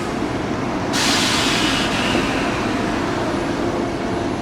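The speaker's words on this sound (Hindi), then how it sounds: "सो अभी बगल में ये आ गई बेंगलोर से धारवाड़ जाने वाली वंदे भारत एक्सप्रेस।" The Vande Bharat Express from Bangalore to Dharwad passes alongside another moving train. A loud, continuous rail rumble carries a sudden hissing rush that lasts about a second, then settles back into a steady roar.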